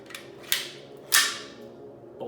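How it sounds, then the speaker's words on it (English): Metallic scraping and sliding clunks of a PTR 91 rifle bolt being inserted during reassembly, two distinct close strokes ringing out briefly, no talking. "let's go ahead and reassemble the rifle. So we just start from the back to the front, put in our bolt."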